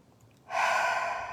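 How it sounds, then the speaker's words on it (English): A single deep inhale during a morning meditation-style settling in, a close, breathy rush that starts abruptly and holds, with no talking over it. "Just breathing a little bit to settle in."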